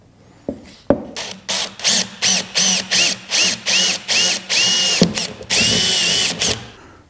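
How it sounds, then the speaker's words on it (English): A power drill bores a hole through a car door during a mirror repair, whirring in repeated short bursts with brief pauses, close and fairly loud, with an initial click or two. "I'm just going to drill a hole through"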